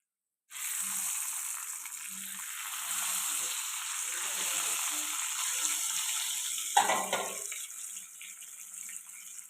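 Eggs sizzling steadily in hot oil with turmeric, a loud continuous frying hiss with a brief clatter near the end.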